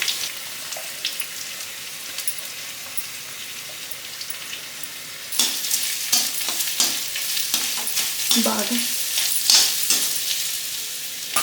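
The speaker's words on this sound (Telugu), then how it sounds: "ఈ ఆయిల్లోనే బాగా ఇలా పొడిగా వచ్చేంత వరకు మనం దీంట్లోనే బాగా మగ్గనిచ్చాలన్నమాట" Ground toor dal and chana dal paste sizzles and fries in oil with banana flower for a Godavari-style usili. A soft steady crackle turns louder and busier midway, with scraping stir strokes and spattering bursts, and no voices.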